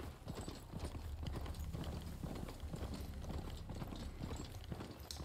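Mount galloping in the video game Horizon Forbidden West, a steady run of hoofbeats that holds throughout, up close and loud, with no talk over it.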